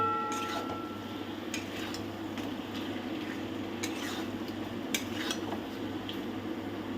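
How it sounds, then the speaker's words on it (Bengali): Chicken and potato chunks being stirred and sautéed in oil and spices in a pan for kosha mangsho, a steady soft sizzle under repeated scraping and clinking of a spoon against the pan, close and continuous. "মোটামুটি 10 থেকে 12 মিনিট এইভাবে কষিয়ে নেবেন"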